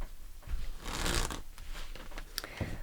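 Tarot cards shuffled by hand, a steady papery riffle and rustle with a few sharper card snaps, close and fairly loud with no talking.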